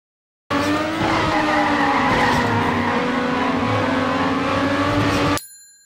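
Car tires skid and squeal through a drift in the TrackMania racing video game, a loud continuous screech with engine drone lasting about five seconds before cutting off abruptly.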